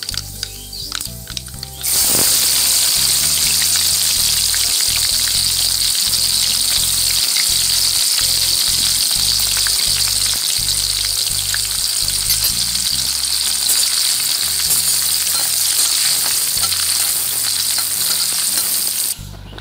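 Onions drop into hot oil already crackling with tempering spices, setting off a loud, steady sizzle that starts suddenly after a brief quieter moment, with occasional clinks of stirring.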